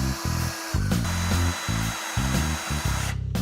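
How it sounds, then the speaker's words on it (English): A power drill installing window blinds whirs in several short, loud bursts, starting and stopping repeatedly with brief gaps between runs, close by. "I'll take the drill from you."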